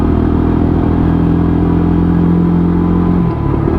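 A Lexmoto Tempest 125cc motorcycle on a test ride, its engine a loud, steady close drone and rumble with slight clatter, holding a constant pitch with no speech over it.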